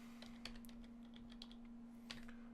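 Uneven typing on a computer keyboard during a SkyFactory 2.5 Minecraft session, with bursts of clicking keystrokes and pauses over a steady electrical hum, near and fairly quiet.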